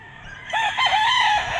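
A white Kelso bull stag rooster, class AB, gives a single brief crow close by, rising sharply after a quiet start and holding a wavering call for about a second.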